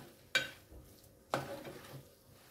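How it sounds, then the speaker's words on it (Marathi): Two sharp scraping stirs of a spoon through dried shrimp (jawla) and masala in a pan, each a brief close clatter followed by a soft sizzle, with quiet gaps between. "या मसाल्यामध्ये छान मिक्स झालं पाहिजे जवळा."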